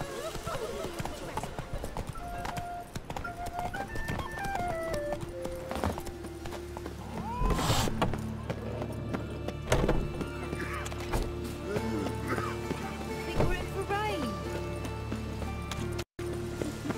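In The Witcher 3, the horse Roach trots through a city, its hooves clip-clopping in a steady rhythm under game music, townsfolk chatter and a spoken line.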